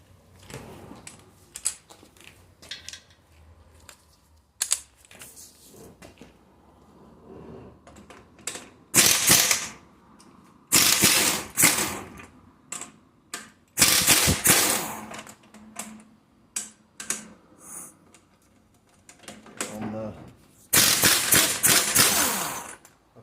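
Ratchet and wrench work on 18mm bolts at a Saab 9-3 engine mount, several bursts of sharp clicking ratcheting separated by quieter pauses, close and loud, no voices.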